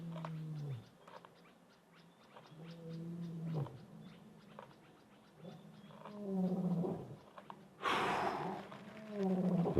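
A male lion roaring on safari in Africa near a kudu carcass, a sequence of deep, rhythmic grunting roars that rise and fall over several seconds, close and powerful against a quiet outdoor background.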